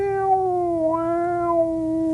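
A cat meows several times in a drawn-out, wavering cry, close and fairly clear, with no other sounds around it.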